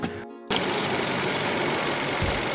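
A car engine cranks briefly after a battery replacement, then catches and runs at a steady, loud idle with an even mechanical clatter, close by and without talk.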